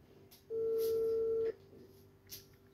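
A mobile phone call being dialed produces one steady electronic tone lasting about a second, loud and close, with faint background noise around it.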